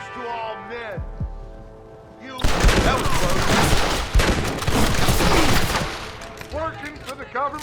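Heavy mounted machine gun in the Wild West shooter Red Dead Redemption, firing in loud dense bursts over a few seconds amid other gunfire, with a voice talking before and after the shooting.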